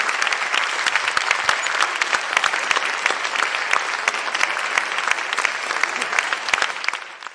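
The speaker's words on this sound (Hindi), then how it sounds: "जोरदार तालियों से मंच पर आमंत्रित करती हूँ" Audience at a Hindi poetry gathering (kavi darbar) in Bhopal clapping vigorously, with sharp individual claps standing out of a loud, continuous applause that tapers off at the end.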